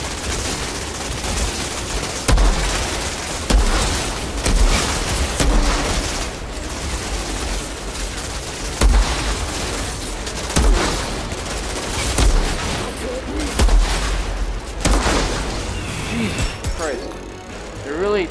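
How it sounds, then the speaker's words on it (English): Gunfire from the Outriders shooter video game rattles in repeated bursts and single shots throughout, loud and dense, with a player talking over the action. "Takes a few shots before you get to a kill."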